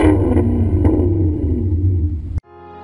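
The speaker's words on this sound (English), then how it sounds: "it's simply for the oral pleasure of listening to these downshifts" A Maserati MC Stradale engine downshifting gives a loud, close, deep rumbling note that holds and fades slightly before cutting off abruptly, followed by a brief quieter tail.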